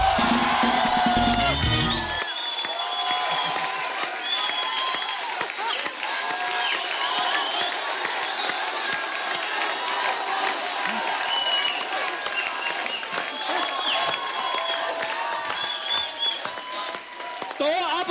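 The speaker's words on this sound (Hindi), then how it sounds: "एक बार जोरदार तालियां हो जाए।" A television studio audience bursts into sustained applause and cheering for Bollywood star Salman Khan's entrance, with whoops and shouts over dense clapping that continues without a break.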